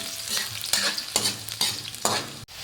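Onion, garlic and ginger sauté in a hot pan, sizzling loudly up close while a utensil stirs them in regular scraping strokes roughly every half second, with no voices.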